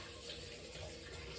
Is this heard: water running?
yes